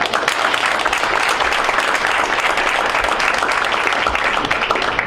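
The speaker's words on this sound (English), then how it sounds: "I think that in and of itself deserves a big round of applause" Loud, sustained applause from an audience at a Berkeley County School District board meeting, a dense steady wash of clapping hands that runs the full length without a break.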